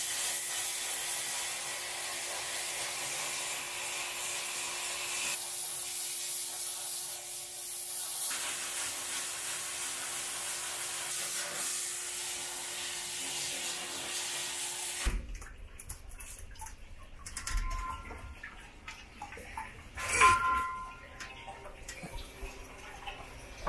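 Abrasive blasting on a Triumph crankshaft makes a steady hissing, rushing blast for about fifteen seconds, then stops, leaving quieter handling noises and a few clunks in a workshop.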